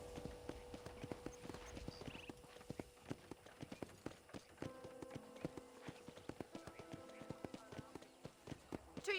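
Horse hooves clip-clop at a brisk, galloping rhythm on a ranch in the video game Red Dead Redemption, steady close hoof strikes with a speaking voice under them and faint insect chirps in the background.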